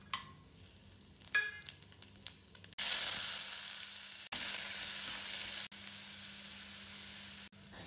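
Onions frying in oil with whole garam masala, cumin and ginger-garlic paste give a loud, steady sizzling hiss that cuts in sharply and breaks off briefly a few times, after quieter clattering at the start.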